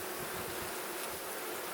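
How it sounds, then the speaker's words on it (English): Honey bees buzz around an open hive during a swarm-prone split inspection, a faint, steady swarm-like hum with no voices. "let's get these bees back in the box"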